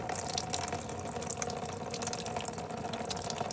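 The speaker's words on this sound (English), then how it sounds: "Man, look how much water's coming out." Water pouring and splashing steadily as it drains out of a Jeep CJ5 transmission, a continuous close gush with a few drips that runs unbroken throughout.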